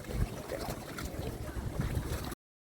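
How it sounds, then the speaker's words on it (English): Loud buffeting wind noise battering an outdoor microphone on a dock while crappie fishing with jigs, with constant low rumble and gusts running steadily for a couple of seconds before cutting off. "The wind noise was extremely bad"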